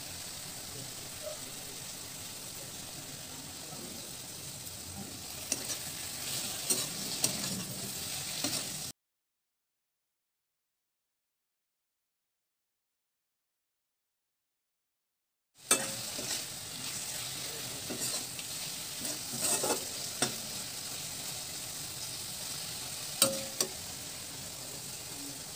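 Amla being stirred with ground spices in a pan, giving a steady soft sizzle with occasional scraping clicks, broken by a stretch of silence midway before the frying noise resumes.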